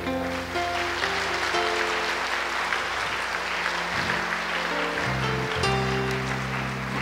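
Steady applause from a church congregation fills the whole stretch, a dense wash of clapping with low music or tones sustained underneath.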